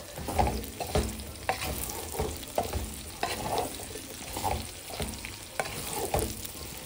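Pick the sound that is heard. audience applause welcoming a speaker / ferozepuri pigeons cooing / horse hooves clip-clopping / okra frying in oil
okra frying in oil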